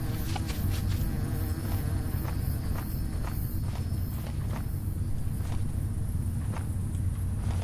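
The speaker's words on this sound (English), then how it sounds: "Why are there so many damn bees?" Many bees and other insects buzz steadily at a campsite in Ohio, a dense continuous drone close by, with occasional footsteps crunching through it and no talking.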